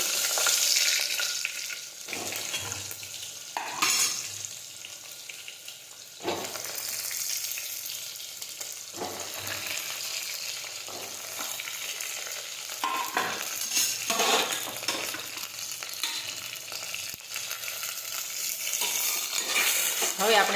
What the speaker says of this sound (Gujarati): હવે આપણે ભરેલા રીંગણ નાખી દઈશું।